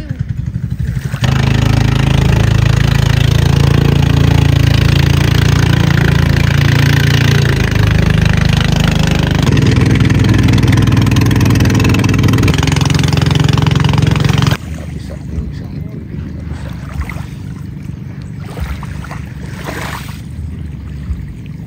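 A borrowed motorcycle's engine runs steadily and close by, a loud, continuous drone with a low rumble that stays even for about fourteen seconds, then drops off to a quieter, rougher idle or distant running.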